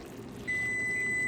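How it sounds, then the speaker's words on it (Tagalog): A kitchen timer goes off while chicken drumsticks cook, a single sustained electronic beep starting partway in and holding steady over faint background hum. "And my timer's done."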